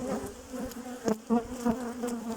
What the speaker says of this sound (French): Une guêpe, c'est une abeille. Une abeille.